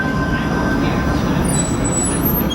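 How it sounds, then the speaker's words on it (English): Bombardier Flexity Freedom light rail vehicle on Toronto's Line 5 Eglinton LRT, heard from inside as a steady, loud rolling rumble with faint high-pitched wheel and motor whine throughout. "They're Bombardier Flexity Freedom light rail vehicles, designed for rapid transit running in Toronto."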